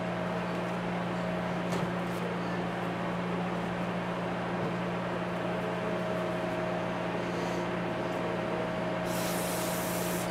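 Brake clean solvent sprayed onto the carburetor of a Homelite chainsaw gives a steady hissing spray over a constant background hum, with a brighter burst of spray near the end.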